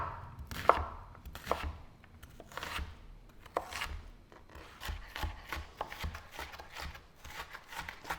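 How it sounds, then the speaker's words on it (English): A knife roughly chops fresh onion on a board in rapid, irregular, close-up thuds and cuts that run continuously, with no talking. "So just roughly chop"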